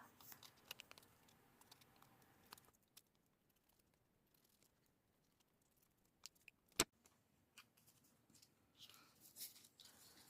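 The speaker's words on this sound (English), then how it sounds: "I just go around the edges with scissors." Quiet, intermittent snips of scissors cutting paper, with soft rustling and crinkling between cuts and one sharp click partway through.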